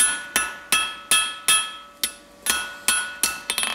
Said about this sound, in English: I'm going to stick it flat on my anvil, find a nice flat spot, and just flatten that off a little bit